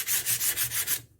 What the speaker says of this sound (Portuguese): Você vai lixando para que essa superfície se utilize.